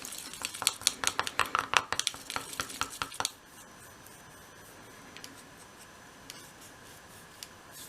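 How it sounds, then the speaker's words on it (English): A small pot of slightly oily leftover white paint is stirred, a quick series of close scraping clicks and taps for a few seconds before it goes quiet apart from a couple of faint knocks. "so I'll just give that a stir"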